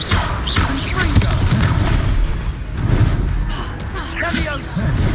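Confringo blasting spell explosions in Hogwarts Legacy, heavy booming blasts and thuds amid chaotic combat effects, with voices and gasps mixed in throughout.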